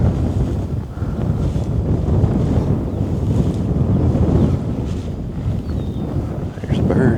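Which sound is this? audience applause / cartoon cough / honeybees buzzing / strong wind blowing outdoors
strong wind blowing outdoors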